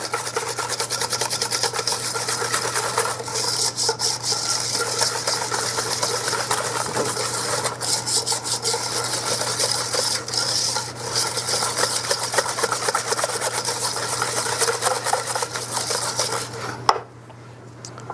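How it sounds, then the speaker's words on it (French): Pastry cream base of sugar and flour being mixed in a bowl, a continuous close rubbing, scraping rasp with a rapid rhythmic texture that stops abruptly near the end. "On va bien mélanger."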